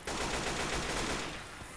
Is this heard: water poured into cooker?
no